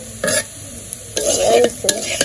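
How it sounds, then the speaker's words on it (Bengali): Potatoes frying and being stirred in a pan, with short bursts of scraping and sizzling separated by brief pauses, close and fairly loud. "এই যে আলু ভাজা"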